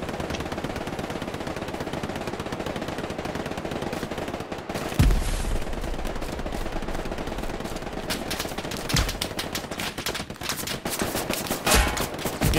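Machine gun fire in the World War II shooter Hell Let Loose, a long sustained rattle of rapid automatic bursts, loud and close, with a few heavier single blasts cutting through.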